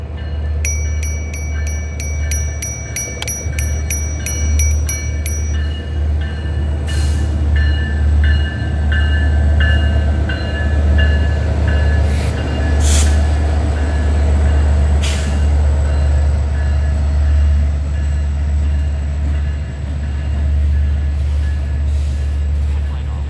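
A train rolls past close by under a steady low rumble, with high-pitched wheel or brake squeals early on and sharp metallic clanks repeating through the pass. This is heard from beside the line during an e-bike ride near Hartsfield Airport.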